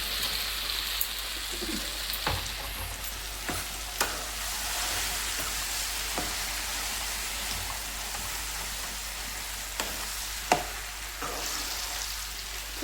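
Sour gongura chutney is stirred in hot groundnut oil in a pan, giving a steady, even frying sizzle. Scattered spoon clicks and scrapes sound through it, with no speech.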